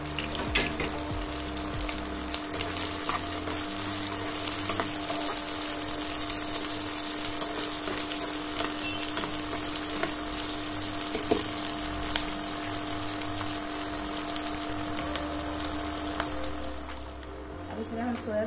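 Onion and capsicum sizzle steadily in a hot pan while chicken manchurian is cooked, a continuous crackling fry that stays even and fairly quiet, with a voice speaking over it.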